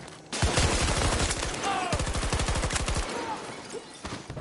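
Automatic rifle fire in the shooter game Battlefield 2042, with rapid sustained bursts of close, loud gunshots, a brief pause and then another long rattling burst, with faint talk underneath.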